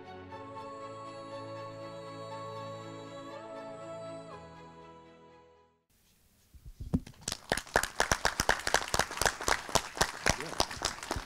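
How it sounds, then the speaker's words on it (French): Audience applause at a Bitcoin round-table conference in La Baule-Escoublac, rising after a pause into a dense, loud stretch of clapping that follows a sustained musical passage. "Merci pour vos applaudissements."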